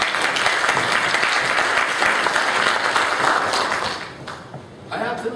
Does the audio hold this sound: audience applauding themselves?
yes